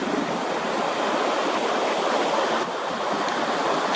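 Wind buffets a microphone outdoors in a steady, loud, broadband roar that continues without break for the whole stretch, with no voices heard.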